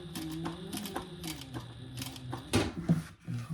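A sewing machine stitches a leather wallet in short mechanical bursts of rapid needle clatter, quiet and close, with brief pauses between runs.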